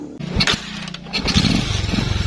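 A motorcycle engine starting during rectifier testing, a short close sputter and cough that settles into a low, uneven, throbbing idle.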